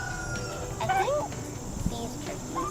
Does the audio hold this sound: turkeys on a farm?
yes